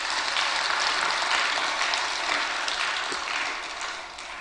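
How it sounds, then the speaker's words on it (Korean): A church congregation claps together in a dense, steady round of applause that fills the room evenly, then gradually thins out toward the end. "박수 한번 쳐줘요."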